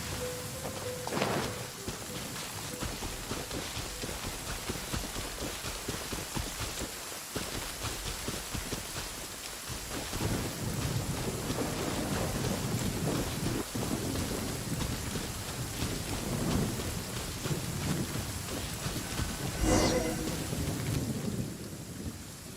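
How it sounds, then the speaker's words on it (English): Steady rain and rolling thunder from a video game storm, a continuous loud downpour with thunder rumbles swelling near the start and again late, no talk over it. "It always rains when I go on an adventure."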